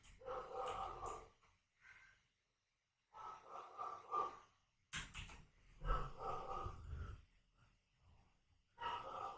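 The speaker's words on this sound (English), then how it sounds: "Do you hear the dog barking?" A golden retriever puppy barks in short yipping bursts indoors, several separate volleys with brief pauses between them, fairly close and clear, with no talking over it.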